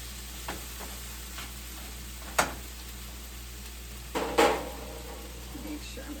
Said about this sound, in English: so we've got the bell peppers, and what we're trying to do is get them softer. So we are going to let those cook down for about 2 minutes.